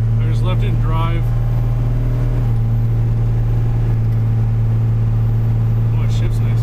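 A 1994–2002 Dodge Ram pickup left in drive accelerates and shifts gears, its engine a loud steady drone that fills the whole stretch, with a voice speaking briefly over it near the start.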